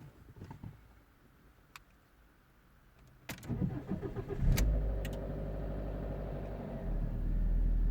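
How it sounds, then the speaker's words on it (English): A Fiat Punto with a Dualogic automated gearbox, which has a harsh, grinding gear fault, cranks and fires after a quiet few seconds, then settles into a loud, steady engine run with a rising low rumble. "So let's gonna start the engine."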